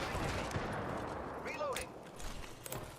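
Gunfire in the Apex Legends video game, several shots under dense game noise and a speaking voice, moderately loud and mixed with other in-game effects.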